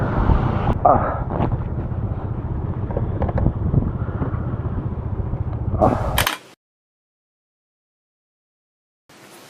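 Strong wind on Mount Pulag buffets the microphone in a loud, rumbling roar for several seconds, then cuts out to near silence.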